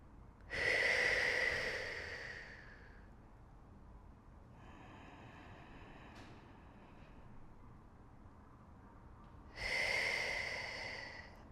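Slow, deep breaths taken during a somatic Pilates session, drawing air into the ribcage: two long, airy inhales several seconds apart, with a softer, quieter breathy stretch between them, all close and unhurried.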